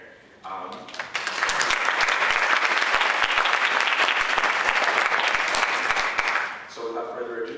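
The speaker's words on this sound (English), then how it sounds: "give yourselves a round of applause as well for being here." An audience at a live student leaders event bursts into sustained applause, building quickly to a dense, loud wash of clapping that lasts several seconds before tapering, with brief talk at the start and end.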